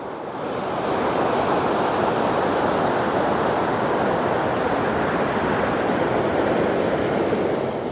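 Ocean surf washes over an estuary in a loud, steady roar of rushing water that never breaks, with no voices.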